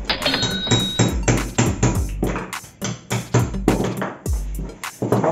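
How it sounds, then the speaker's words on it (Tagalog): Hammer striking a nail to punch holes in a can while building a homemade Beyblade: a steady run of sharp metallic blows, about two per second, loud and close, with a ringing clank on each hit and no talk. "Gamit ang martilyo at"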